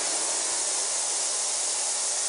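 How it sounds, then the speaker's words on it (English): Ultrasonic cleaning tank running at 30,000 cycles per second, its resonant transducers and vibrating bottom giving a steady, even broadband hiss that holds unchanged throughout. "What you're hearing there is the resonant transducers and the mechanical vibration that's going on."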